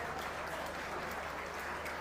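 An audience applauding at a class session, steady continuous clapping throughout, moderately distant and even.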